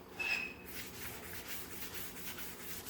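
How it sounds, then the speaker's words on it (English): A shop rag rubs wood stain onto a board for a hand-painted distressed sign, giving a soft, steady rhythmic swishing that stays faint and close, with a brief higher scrape at the start. "I just rub it all over."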